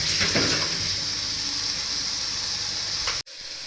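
Spinach sizzles in ghee over a full flame, a close, steady, loud frying hiss that cuts off abruptly for a moment near the end before resuming, with no talking.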